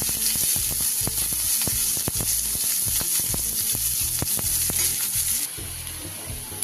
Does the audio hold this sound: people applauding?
no